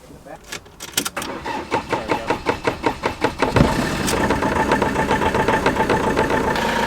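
A van engine, back after repair with a replaced turbo, cranks with a steady run of rhythmic pulses, then catches and settles into a continuous running idle up close.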